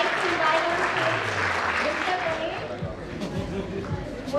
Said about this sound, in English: A big clap for all of these guys.